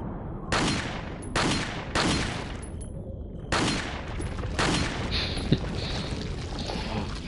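Several loud, sharp gunshot bursts in the video game Resident Evil 4 fire in quick volleys with brief gaps, followed by lingering crackling noise; no voices.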